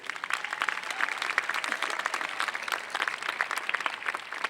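Dense, steady applause with cheering from a university audience at a freshman convocation, sustained and fairly loud throughout with no break.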